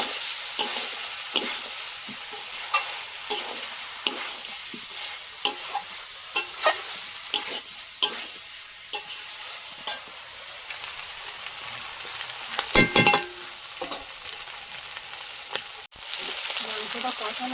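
Meat and potatoes fry in a pan on a new stove, a continuous close sizzle broken by repeated scraping stirs at a loose rhythm, with a louder burst of stirring near the end.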